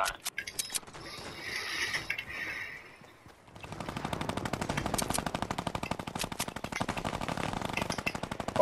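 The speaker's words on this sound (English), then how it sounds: "There's guys shooting at us, Caden." Video game gunfire in a large 50v50 battle mode, rapid automatic bursts of shots, sparse at first then a sustained loud rattling stream of fire.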